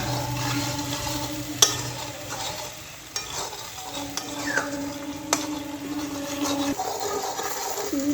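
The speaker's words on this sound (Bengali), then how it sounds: "শুকনো লঙ্কাগুলো এরমভাবে ভেজে দিলাম।" Dried red chillies fry in a pan with a soft, continuous sizzle, broken by a few sharp clicks and scrapes of a spoon stirring, quiet and close.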